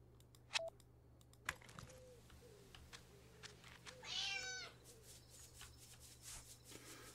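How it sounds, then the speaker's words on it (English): A cat in the video game Dordogne gives a short meow and then a longer, wavering meow, close by, over soft clicks and a low steady hum. "This cat knows this place better than I do."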